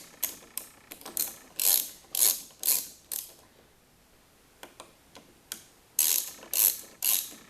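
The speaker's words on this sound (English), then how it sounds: "Put the ratchet on. And there. it broke loose." A ratchet clicks in short bursts while loosening a Torx screw on a Jeep, several quick sets of ticks near and fairly loud, with brief pauses between strokes and a quiet stretch midway.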